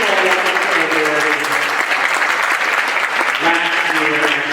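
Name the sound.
applause for a student at a school concert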